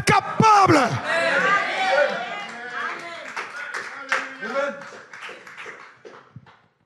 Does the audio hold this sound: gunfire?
no